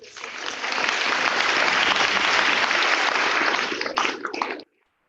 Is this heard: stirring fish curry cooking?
no